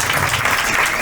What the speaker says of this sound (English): A big round of applause, Comrade Som.